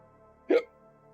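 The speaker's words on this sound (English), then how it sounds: "Hiccups." A single sharp hiccup from a person at a drawing and painting desk, one brief loud burst standing out against quiet room hum.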